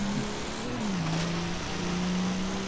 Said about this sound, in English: I just love the way this truck sounds still